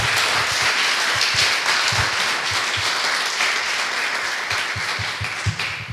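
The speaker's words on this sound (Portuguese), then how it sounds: "Então aplauda ao Senhor" A church congregation applauds during a worship service, broad steady clapping filling the whole stretch at close range, with a few louder individual claps punching through near the end.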